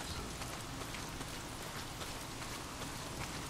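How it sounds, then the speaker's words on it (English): Heavy rain pours down in the Days Gone video game world, a dense, continuous hiss of drops hitting the ground with faint patters scattered through it, and no other sounds stand out. "Well, not if it's pissing down rain."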